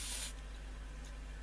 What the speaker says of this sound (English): give the sockets a little bit of a squirt spray with the magic fluid